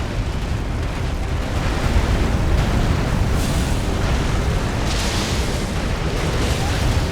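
In the video game Elden Ring, a Frenzied Burst spell is cast at a fire-resistant dragon, producing a dense, roaring rumble of explosive fire that fills the scene continuously with no speech.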